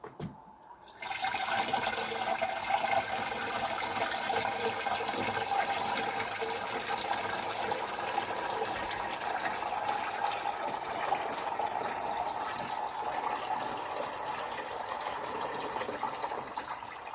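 Water gushes into a container in one continuous, loud, close stream that fills steadily for the whole stretch, with a faint hollow ring as the level rises and no voices.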